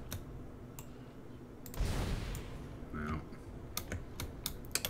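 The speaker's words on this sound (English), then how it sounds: "I have a loud keyboard." Someone types on a loud computer keyboard, with sharp scattered clacks and clicks up close, along with a brief burst of noise and a voice in between.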